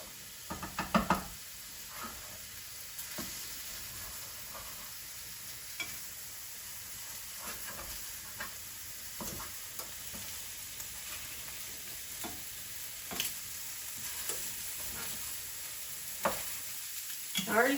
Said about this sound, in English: just keep breaking your sausage up into small pieces